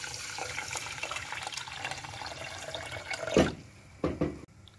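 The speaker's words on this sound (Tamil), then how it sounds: "தண்ணி ஊற்றி 3 times வாஷ் பண்ணிக்கோங்க." Water poured into a pot of rice and moong dal for rinsing while making temple-style ven pongal in a home kitchen, a steady running splash that breaks into a few sloshing swirls near the end.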